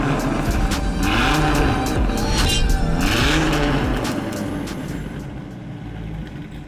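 A Dodge Viper's engine revs and roars up and down in loud, sweeping bursts, its pitch rising and falling twice before easing off, with no talking.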